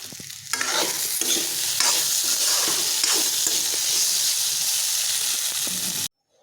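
Potatoes fry in oil with a loud, continuous sizzle and occasional stirring scrapes, then the sound cuts off abruptly near the end.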